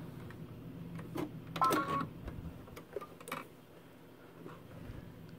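A sewing machine stitches a Christmas stocking, giving quiet mechanical ticking and short whirring bursts, strongest near the middle, over a low room hum.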